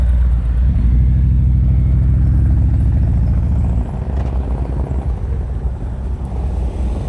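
A motorcycle idles along at low RPM through a slow-speed turn during riding practice, a loud, steady low engine drone that drops and roughens partway through.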